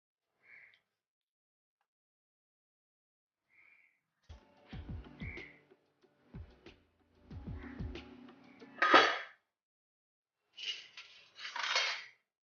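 A metal pot lid lifts off a steaming pot of Jaffna-style idli, with clinks and scrapes of metal cookware in a few separate bursts and short hisses of steam, and quiet gaps between.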